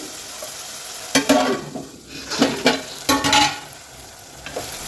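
Sliced onions cooking with chili powder for a chicken fry sizzle steadily while a spoon scrapes and stirs in loud bursts, with quieter frying between the strokes.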